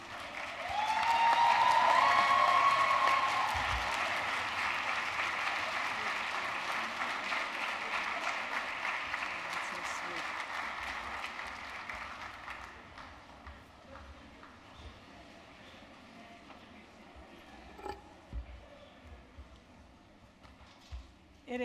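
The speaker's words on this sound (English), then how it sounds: "please give a round of applause for Dr." A ceremony audience applauds a woman being welcomed to the stage at an honors college induction and recognition event. The clapping swells to a loud peak, holds steady, then thins out into scattered claps.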